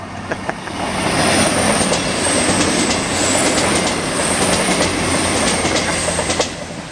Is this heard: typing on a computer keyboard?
no